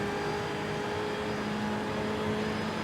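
Race car engine audio from the iRacing sim racing game, a steady, fairly quiet whirring drone with no voices.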